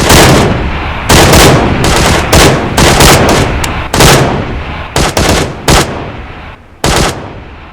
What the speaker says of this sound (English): The gunfire of 20 PLA soldiers was sounding.